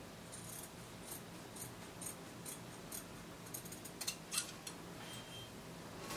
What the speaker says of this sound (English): I'll cut out the front neckline and the armhole.